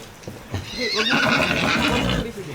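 A horse gives a loud, close whinny that rises and wavers for about a second and a half, with a few hoof clops beforehand, at a rest house in Jala-jala.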